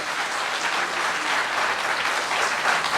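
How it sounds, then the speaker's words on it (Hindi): An audience at a Hindi-language government event for a solar self-employment scheme breaks into loud, sustained applause, dense and even throughout with no voice above it. "तो एक बार जोरदार तालियां इस योजना के लिए"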